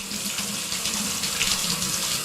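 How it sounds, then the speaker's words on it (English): Fresh water running from a garden tap into a pot makes a close, steady gushing splash that continues without a break. "The mother filled the pot with fresh water from a garden tap."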